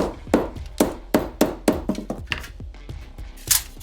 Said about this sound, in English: I'm going to try and hammer it as flat as possible with this mallet